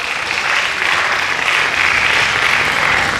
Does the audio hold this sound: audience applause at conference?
yes